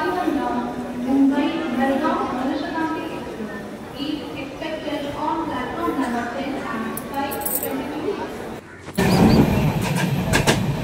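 A train at Dadar station on the western line rumbles and clatters steadily beneath nearly continuous nearby talking, with a sharper, louder burst of rail noise near the end.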